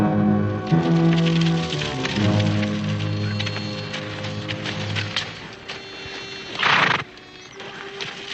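Horses whinny and snort amid a dense patter of hooves and rain-like noise, with one loud burst near the end.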